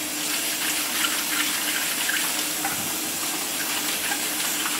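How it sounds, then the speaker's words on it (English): Dirty carrots are scrubbed under running water in a kitchen sink, a steady hiss of the tap spraying close by with faint rubbing beneath it, no voices. "I just give them a good scrub in the sink."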